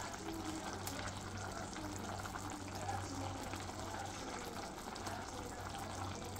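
Food cooking in a pan after a spice powder is added, a soft steady sizzle and bubbling with faint stirring, quiet and continuous with a low hum beneath.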